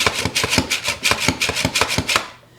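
Quick, rhythmic slicing strokes of vegetables over a mandoline slicer for bread and butter pickles, about a dozen crisp, evenly paced swipes close by that stop abruptly near the end, with no talking.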